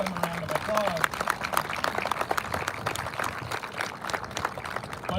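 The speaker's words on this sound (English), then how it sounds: "So let's give them a round of applause." Audience at a Vietnam Wall memorial replica ceremony clapping steadily, a dense patter of many hands that carries on for several seconds, with a voice briefly heard at the start.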